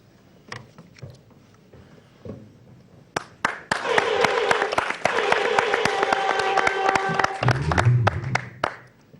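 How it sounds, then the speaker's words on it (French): Audience applause at a televised event, scattered claps building into sustained clapping from the crowd for several seconds, with music and voices mixed in before it fades to a few claps. "Les applaudissements de notre chaleureux public"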